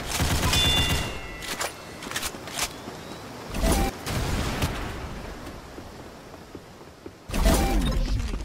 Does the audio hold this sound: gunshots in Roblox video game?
yes